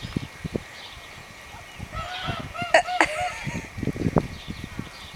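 Geese honk in a loose flock outdoors, a few nasal calls rising in the middle and overlapping briefly, set against steady background rumble and a faint murmur of nearby voices.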